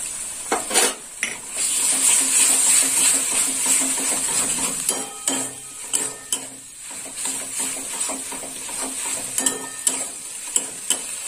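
Ginger garlic paste fries with shrimp in a pan, sizzling steadily while a utensil scrapes and clinks against the metal in frequent strokes, close and fairly loud, with no one talking.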